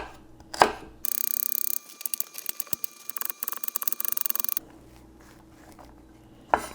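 Celery stalks are chopped on a cutting board with a knife in a home kitchen, a quick run of close, crisp, rhythmic chops between softer knocks and handling sounds, with no talk.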